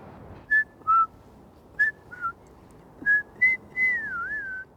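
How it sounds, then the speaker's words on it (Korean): Someone whistles a few short, clear notes one after another, then a longer sliding tune, close and bright against a quiet background. "다름 아닌 휘파람 불기"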